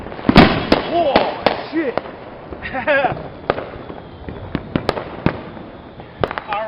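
Fourth of July consumer fireworks burst outdoors at night in a rapid series of loud sharp pops and crackles with whistling rising tones, while people react and shout nearby.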